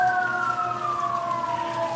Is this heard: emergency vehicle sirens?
yes